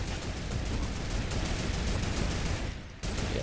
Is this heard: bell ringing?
no